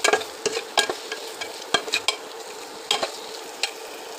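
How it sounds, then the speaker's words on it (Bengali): Taro pieces frying with turmeric and salt in a pan, sharp scraping stirs and clinks over a soft sizzle, irregular and close. "হাফ চামচ হলুদ, 1 চামচের মতো লবণ দিয়ে কচু একটু ভেজে ভেজে নেব।"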